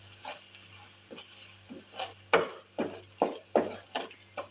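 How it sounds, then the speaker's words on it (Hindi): Dal mash being stirred and fried with red chilli powder and spices in a pan over a low flame, heard as a series of soft scraping and sizzling bursts about every half second, with a steady low hum beneath. "1 मिनट तक इसकी भुनाई करेंगे।"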